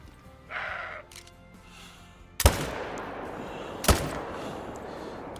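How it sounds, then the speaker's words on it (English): Two loud, sharp hunting rifle shots crack out in theHunter: Call of the Wild, spaced about a second and a half apart, each trailing into a rolling echo across open terrain, with a quieter ambient sound beforehand. "Terrible shooting."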